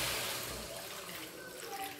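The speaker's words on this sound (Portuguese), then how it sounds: "vou meter a minha água" Water pours into a cooking pot for a smoked-meat dish with palm oil, a steady broadband splash and trickle at moderate loudness lasting the whole moment, with no voices over it.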